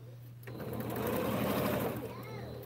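A sewing machine stitches quilt pinwheel pieces with a quarter-inch seam, starting after a brief pause and running in a fast, steady whir close by for about two seconds before slowing.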